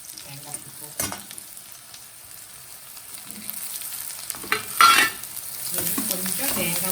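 Grated coconut frying in a pan with onions while being stirred, a soft sizzle beneath intermittent scraping strokes and a few sharper clinks, close and moderately quiet.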